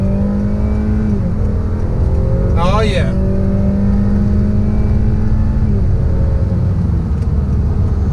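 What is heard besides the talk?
Honda Accord Touring accelerating from a dead stop with wheel spin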